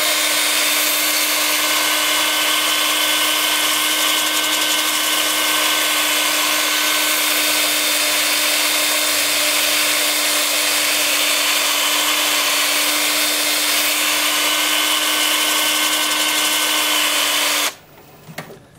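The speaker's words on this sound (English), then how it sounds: "with the lathe spinning at about 350 forward, I'll take my 2-inch disc sander." A 2-inch disc sander works a turned wood piece on a lathe spinning at about 350 rpm forward, making a loud, steady, close abrasive whir with a constant hum that holds unbroken before cutting off near the end.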